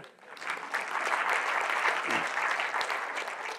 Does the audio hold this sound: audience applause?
yes